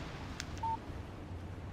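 In the video game Alan Wake, a phone gives a single short electronic beep for an incoming text message, clear over a low, steady background hum.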